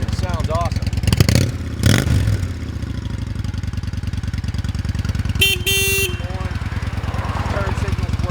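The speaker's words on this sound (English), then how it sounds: "let's see a little exhaust note on this thing. Stock fishtail exhaust" A stock fishtail exhaust on a 2000 Honda VT1100C3 Shadow Aero rumbles at a steady, loud idle with a low pulsing beat, briefly blipped twice near the start, while a horn-like tone and brief bursts of noise cut in midway.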